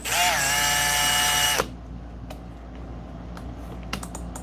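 A cordless power drill, set to drill mode after sticking in clutch mode, whines loudly and steadily for about a second and a half, then stops, leaving quiet shop room tone with a few faint clicks.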